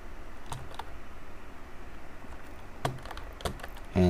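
Scattered keystrokes on a computer keyboard while entering text for a funeral tribute book cover, a few isolated taps and short clusters over a quiet room background, ending with a louder knock.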